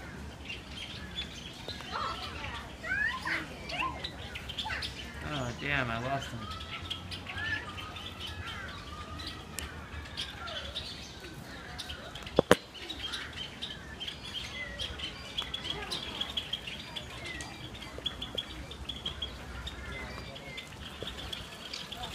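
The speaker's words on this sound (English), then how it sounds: "Java sparrow." Java sparrows and other birds chirp and call at Beijing Zoo, scattered tweets throughout with a sharp sudden click midway and soft background noise, no clear talk over it.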